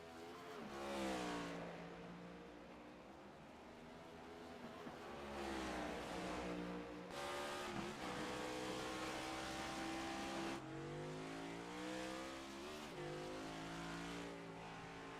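Race cars in a video game circle behind the pace car at the Ghost Roval 200 under caution, engines droning loudly and continuously with rising and falling pitch as the field bunches up.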